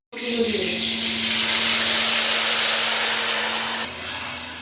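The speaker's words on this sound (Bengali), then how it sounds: "মাংসগুলো কড়াইতে দিয়ে দিয়েছি" Mutton hits a hot wok with a loud, steady sizzle and hiss that holds strongly throughout, easing slightly near the end.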